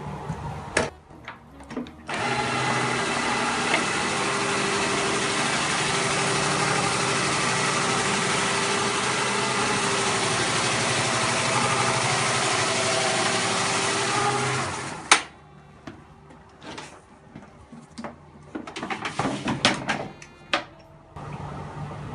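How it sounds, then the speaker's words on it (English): A floor scrubbing machine works restroom tile grout in a realtor's office, giving a steady, close mechanical drone for about thirteen seconds before cutting off, followed by scattered clatter and handling noises. "we're just going to give it a quick scrubbing and show you the benefits of color seal"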